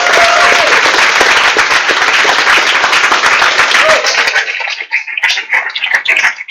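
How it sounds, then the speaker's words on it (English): An audience at a grappling submission event applauds loudly and steadily, then the clapping thins into scattered claps near the end. "Let's get a round of applause for these guys."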